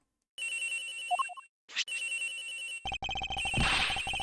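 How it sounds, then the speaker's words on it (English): The victim's cell phone rings in the Ace Attorney Investigations video game, a steady electronic ringtone broken by short game chimes and blips, ending under a louder burst of game sound effects. "Gotta be the victim's cell phone."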